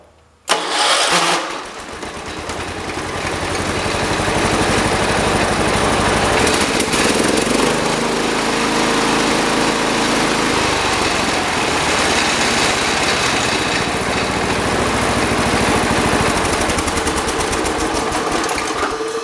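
A John Deere 216 riding mower engine cranks and catches with a sputter, then settles into a steady, loud, rough idle that runs without a break.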